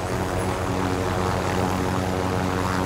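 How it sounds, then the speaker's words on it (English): An attack helicopter flies in a Call of Duty match, a dense continuous engine and rotor roar filling the mix, loud and steady with no speech. "Hostile attack chopper carrying cash."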